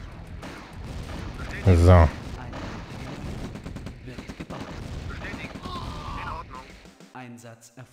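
Loud burst of flash tank gunfire from the Command & Conquer Counterstrike (Gegenangriff) strategy game, a short heavy crackle over a busy battle bed, with someone talking over the game sounds.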